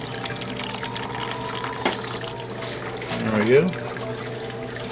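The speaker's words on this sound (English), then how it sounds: "And this is how I fly sparge." Water trickles steadily in a homebrew fly-sparging setup as a valve is opened a little more, a soft continuous flow with a brief louder splash near the end and a short spoken remark over it.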